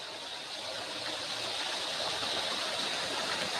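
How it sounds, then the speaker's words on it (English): A massive waterfall in a film scene near what looks like an old dam, a dense, steady roaring hiss of rushing water that holds evenly from start to finish with no voices over it. "It's a massive waterfall."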